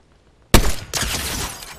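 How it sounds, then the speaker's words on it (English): Sudden loud bursts of gunfire in a Fortnite match, a sharp blast followed by a second volley and a fading rattle, close and dominant after a near-silent start. "There's gunshots coming over here."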